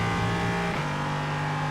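Simulated LMP3 prototype race car in iRacing, its engine droning steadily at high revs with a brief pitch shift partway through, loud and continuous with no talk.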